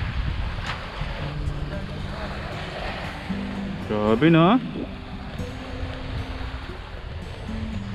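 Sea waves and steady wind roll onto a quiet, uncrowded beach in Bicol with a few boats nearby, a constant rushing wash with wind buffeting the microphone and a brief spoken exclamation partway through.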